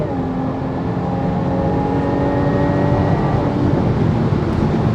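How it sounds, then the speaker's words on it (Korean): A Jaguar F-Type P380 roars under hard acceleration, its exhaust a loud, continuous rising drone with layered harmonic tones and no voices over it. "이렇게 급가속을 할 때 터지는 이 배기음은"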